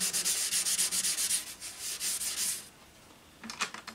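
3M abrasive rubs over a thin lacquer finish on an Epiphone F110 acoustic guitar in steady close back-and-forth strokes, a soft scratchy sanding sound that pauses briefly before resuming.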